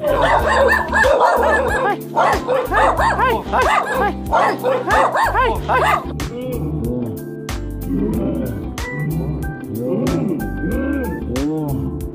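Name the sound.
dog barking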